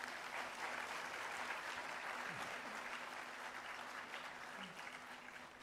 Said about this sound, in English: Please join me in welcoming Professor Peter Scott with a big applause.